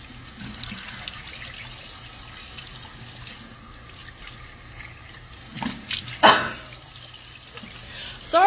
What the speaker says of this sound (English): you guys have to watch me washing my face